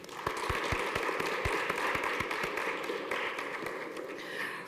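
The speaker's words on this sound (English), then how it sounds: "Please give a big round of applause to Bethany." Applause from a college honors ceremony audience fills the room, with a steady dense patter of many hands clapping at moderate volume, a few sharper claps standing out, sustained throughout.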